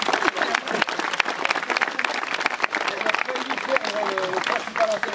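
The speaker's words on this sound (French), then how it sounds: "On applaudit encore Pascal Lestéla" Renewed applause from a French audience honoring Pascal Lestéla, brisk crowd clapping with scattered voices talking over it from start to finish.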